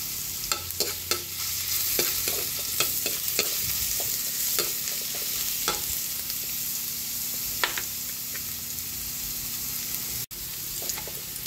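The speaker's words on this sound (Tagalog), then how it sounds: "Lagyan na natin yung bawang." Garlic sautés in a hot pan for butter garlic shrimp, a steady close sizzle and crackle broken by repeated scraping stirs, with a brief clunk near the end and no talking.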